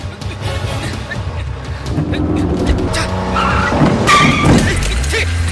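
A car speeds through a chase with tires squealing and skidding, its engine roaring loud and close under shouted voices and other chase noise.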